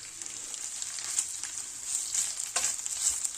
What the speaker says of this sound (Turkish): Şimdi döner etini şöyle tavaya koyduk. İyice tavada biraz kızartalım.